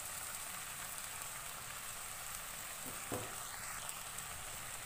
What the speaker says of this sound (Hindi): चिकन को मैंने 2 मिनट फ्राई कर लिया है लहसुन अदरक के साथ